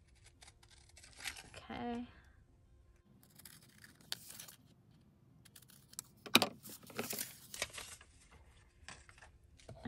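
Scissors cut through paper in a few close, brief snips and rustles, with a short spoken word and other handling noises around them.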